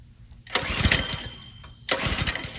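A neglected Chevrolet C10 truck with a swapped 5.3 V8 cranks and catches twice in quick succession. Each start gives a loud, close burst of rough engine roar that settles into a chugging idle.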